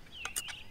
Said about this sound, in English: As you might be able to hear, you can hear a lot of birds